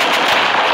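A rocket explosion in the survival game Rust, a loud, close, noisy blast filling the whole short moment with a dense, crackling roar.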